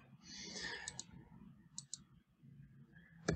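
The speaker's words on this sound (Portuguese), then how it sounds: "Deixa eu ver se eu consigo digitar aqui." A few scattered keystrokes on a computer keyboard, sharp isolated clicks in small pairs with pauses between, fairly close over a low background rumble.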